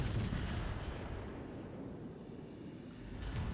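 Battleship main guns fire in World of Warships, a deep rumbling boom at the start that rolls away into a long low roar before another distant thump near the end.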